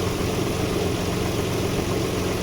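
A 1987-97 Nissan D21 Hardbody pickup's VG30E V6 idles with a steady, continuous mid-to-low engine drone, with a faulty idle air control valve behind the sporadic surging idle.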